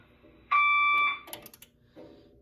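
A Notifier AFP-200 fire alarm panel sounds its manual evacuation signal: a steady, loud electronic alarm tone holding for about half a second, then cutting off, followed by quieter clicks and room noise.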